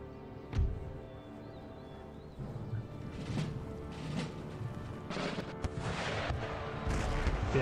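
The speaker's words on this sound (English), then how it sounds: "These artillery units at the rear can just do so much damage." Howitzer artillery booms repeatedly in the Empire Total War strategy game, with loud cannon blasts and crashing impacts spaced irregularly over a continuous battlefield din.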